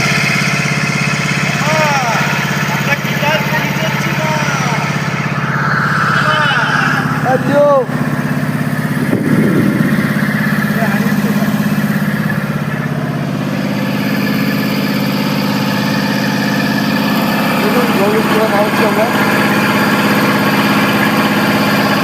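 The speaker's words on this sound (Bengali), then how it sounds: "আমরা লঞ্চ করে যাচ্ছি" A launch boat's engine drones steadily throughout, a continuous mid-low hum with faint vibration, while people talk over it at intervals.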